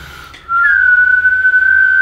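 A person whistles one loud, sustained steady note, close to the mic and alone, with a slight pitch bend near the start.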